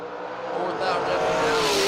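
Drag racing cars, one a 4th gen Camaro, roar at high revs on the strip, the engine note climbing steadily and moderately distant beneath a commentator's voice.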